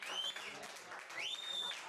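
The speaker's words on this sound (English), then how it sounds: "let's give another round of applause for all the comedians that performed tonight." Crowd applause at a comedy show, steady clapping and cheering from the audience with a couple of loud rising whistles cutting through.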